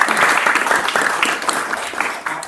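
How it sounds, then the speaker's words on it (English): Audience applause at an academic colloquium, a steady wash of many hands clapping that holds for a couple of seconds and tapers slightly toward the end, with no talking over it. "We'll give a round of applause"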